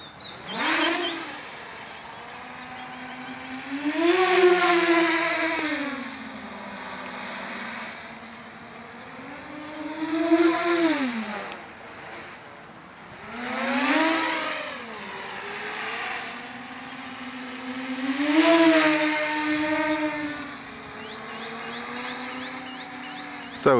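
Electric drone motors whine through a full-power climb, then drop to idle as the craft rolls inverted and floats down. The pitch swells and falls in repeated broad sweeps, loud and close, with no talk.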